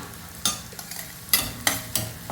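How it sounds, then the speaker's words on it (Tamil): Onion and garlic sautéing in a pan for a home-cooked Tamil festival lunch, with a low background sizzle and several sharp scraping stirs of a spoon against the pan. "இது வெங்காயம் பூண்டு இதெல்லாம் நல்லா வதங்கின பிறகு"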